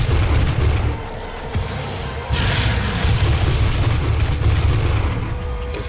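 Gunfire and heavy booming blasts from the DOOM video game, dense and continuous for several seconds with loud low thuds and a brief dip in intensity partway through.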